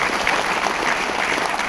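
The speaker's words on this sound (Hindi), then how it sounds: "एक बार जबरदस्त तालियां हो जाएं।" Enthusiastic audience applause at a gathering honoring leaders, loud continuous clapping from a large crowd heard close and alone for the brief span.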